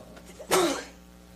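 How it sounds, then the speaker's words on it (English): A single short, sharp cough bursts out in a quiet room during a seminar discussion, brief and fairly close. "you're coughing"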